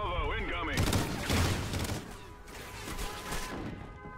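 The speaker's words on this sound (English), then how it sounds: "Enemy salvo incoming!" Enemy missile salvo explosions in the video game Call of Duty Ghosts: a dense, loud burst of blasts and rapid gunfire-like cracks rolls on for several seconds, with a voice briefly audible beforehand.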